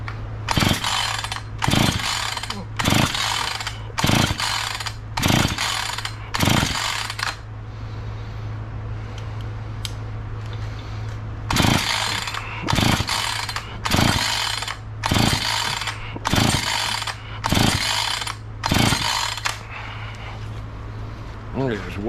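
A Husqvarna chainsaw that is not fixed and will not start is cranked again and again by its pull cord, each pull making a loud rasping burst over a steady low hum, with a pause midway before another run of pulls.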